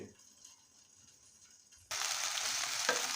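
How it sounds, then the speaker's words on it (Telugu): Okra (ladies' finger) frying in a pan is quiet at first, then breaks into a sudden bright, steady sizzle as it is stirred, continuing loudly to the end. "బెండకాయలు అయితే మధ్యలో అలా కలుపుతూ ఉండండి, అడగట్టకుండా కలిపేసేసి బాగా ఫ్రై అయిన తర్వాత"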